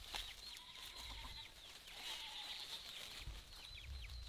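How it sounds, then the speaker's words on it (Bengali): A hen clucks in a village in Langkawi, Malaysia, a series of soft, fairly close clucks and calls over quiet background ambience, with no talking. "দেখেন কি সুন্দর মুরগি"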